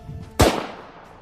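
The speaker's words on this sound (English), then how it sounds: "A gunshot," A single sharp, loud gunshot sound effect cracking out abruptly and then decaying in a short, fading reverberant tail.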